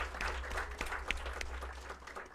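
Audience applause at a foundation day and closing ceremony, a steady, moderately distant patter of many hands clapping at once, fairly quiet and sustained throughout without pauses.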